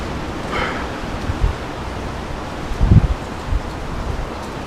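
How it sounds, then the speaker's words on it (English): Wind gusts buffet an outdoor microphone, a steady broadband rush with a few low thumps and swells. "it's a little windy"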